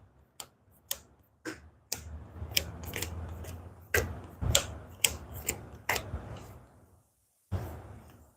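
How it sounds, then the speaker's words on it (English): Repeated sharp card slaps and a riffling rustle as a discard pile of cards gets shuffled for a board game, close and fairly quiet, with crisp clicks spaced through the run and a short pause before a final burst. "Now I got to take my discard pile and shuffle it all up."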